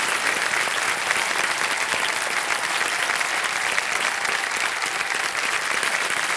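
A television quiz show's studio audience claps loudly and steadily, a dense wash of applause with no break from start to finish.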